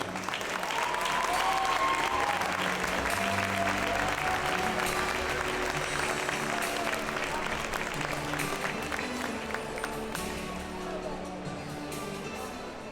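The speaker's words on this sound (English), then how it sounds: "Ladies and gentlemen, one last final applause for our graduating seniors." A basketball game crowd claps loudly and steadily for the graduating seniors, with some cheering and voices mixed in, and the applause tapers off slightly toward the end.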